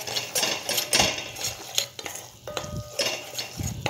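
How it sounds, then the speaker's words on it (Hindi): White sauce for pizza stirred slowly in a pan over a low flame: repeated soft scrapes and taps of a spoon against the pan bottom over a faint steady hiss, close and continuous. "तो कंटिन्यू चलाते रहेंगे लो फ्लेम पे हल्का ज़्यादा ब्राउन नहीं करना है"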